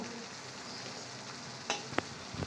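Spice masala frying in oil in a pan, cooking for a soybean, potato and pointed gourd curry, sizzles steadily and softly throughout, with a few brief sharper scrapes or stirs near the end; no talking.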